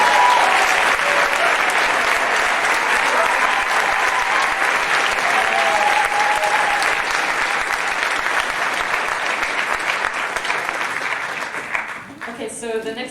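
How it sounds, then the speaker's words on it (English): Sustained applause from a concert audience at a Middle East music ensemble performance, steady and dense clapping filling the hall throughout before thinning near the end. "will you please give an even larger round of applause for Dr. Scott Marcus."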